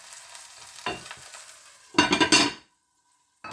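Fish for tacos frying in a pan on the stove, low background hiss broken by a short scrape, then a loud burst of sizzling and stirring clatter that cuts off abruptly.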